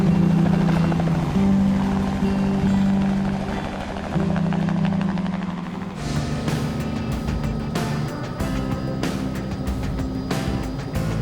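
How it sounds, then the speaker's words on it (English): A helicopter flies overhead on a river fishing trip, its steady loud rotor thump and engine drone continuous and close throughout, with a change in pitch partway through. "When you got a helicopter, you can go just about anywhere you want."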